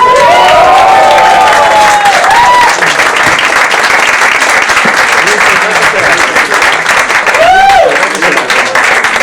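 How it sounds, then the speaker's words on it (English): A comedy club audience in Berlin claps and cheers loudly, with whoops and shouts rising over the dense applause while a presenter speaks through a microphone over the crowd. "give a huge round of applause and screams"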